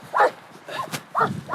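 Pacha, a search and rescue dog with firefighters, gives short yipping barks and whines close by, two main bursts with a softer sound between them.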